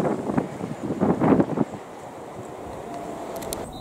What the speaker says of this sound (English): Ooh, it's getting so windy.